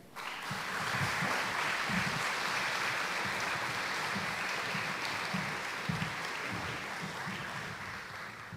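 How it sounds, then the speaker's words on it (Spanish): Audience applause welcoming a speaker to the stage at a faith and justice talk, a steady wash of many hands clapping that holds for several seconds, with a faint low murmur beneath. "Recibámosle con un fuerte aplauso."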